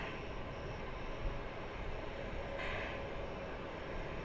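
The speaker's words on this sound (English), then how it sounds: "American Flight 2099 is now making the turn on the top of runway 18 left. This is going to Wichita, Kansas. It's an Airbus A319." A 2000-model American Airlines Airbus A319 turns onto runway 18 left at Dallas-Fort Worth, its jet engines a steady, distant broadband rumble with a faint whine, continuous and unbroken.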